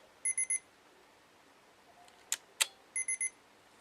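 A Mamiya RZ67 Pro II medium-format camera sounds its warning, two groups of three short, high electronic beeps separated by a pause, with two faint mechanical clicks in between, heard close up in a quiet room.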